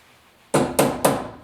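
A hammer drives pegs into a rustic wooden picture frame: three sharp, close, evenly spaced strikes after a brief quiet moment.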